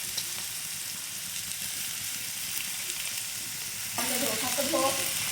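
Potatoes, peas, carrots and beans fry in white oil in a home kitchen, giving a steady loud sizzle that grows busier and crackles harder partway through, with no talking.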